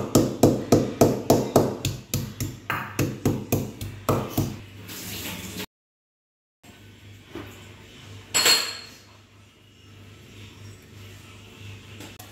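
Ginger and green cardamom crushed by hand in a kitchen: a run of about a dozen firm, regular pounding knocks in the first five seconds, then a pause and quieter clinks and shuffling.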